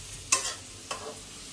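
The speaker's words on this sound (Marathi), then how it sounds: "तोपर्यंत कांद्याला आपण थोडंसं शिजू द्या, परतवून घेऊ." Onion sautéing in a pan gets stirred twice, each pass a short, quiet scrape with a light sizzle, over a soft low background.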